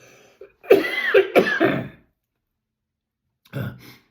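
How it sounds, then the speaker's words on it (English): Two bursts of coughing, the first a harsh run of several coughs lasting over a second, then a shorter cough after a pause, close and loud. "each time I start again, I just keep on coughing"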